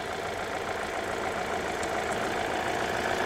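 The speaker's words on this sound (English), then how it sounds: "Now the fan is working right there." A Hyundai Sonata's radiator cooling fan whirs steadily after an A/C repair, a continuous broadband rush alongside the low hum of the idling engine, close and moderately loud, with no voices.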